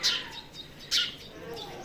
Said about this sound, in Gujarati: ચકલીઓ બાજેરી